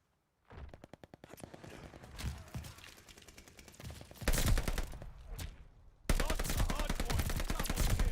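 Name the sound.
gunfire from video game Call of Duty Vanguard multiplayer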